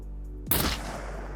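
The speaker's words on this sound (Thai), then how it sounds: "เดี๋ยวตอนนี้เราจะทดสอบเป็นกระสุน AP กันบ้างครับ" An armor-piercing rifle round fires in the game SCUM as one sharp, loud gunshot, and a low hum runs underneath both before and after the shot.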